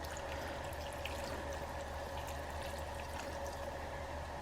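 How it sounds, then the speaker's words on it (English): Ham bone cooking liquid being poured into a pot for beer soup, a soft continuous trickling pour lasting a few seconds, quiet and steady with no talking. "we're going to add the liquid from our ham bone"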